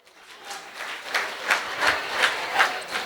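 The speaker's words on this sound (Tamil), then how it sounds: "ஒரு பெரிய கைத்தட்டு கொடுக்கலாமா?" An audience applauds a children's Christmas program at a church in Al Khor, Qatar. The clapping is moderately distant and grows into a steady ovation with rhythmic surges, with no talk over it.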